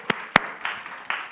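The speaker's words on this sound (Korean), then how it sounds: "우리가 먼저 감사의 박수로 시작하도록 하겠습니다" A church congregation giving applause of thanks at a service, a few sharp separate claps followed by softer scattered clapping, brief and moderately near.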